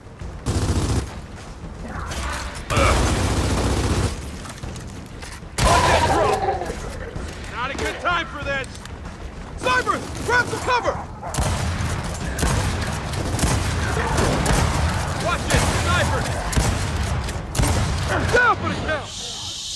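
Gunfire in Gears of War 4, with scattered loud shots and clattering bursts mixed with other combat noise, heard under frequent talking throughout.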